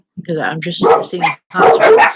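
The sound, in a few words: dogs barking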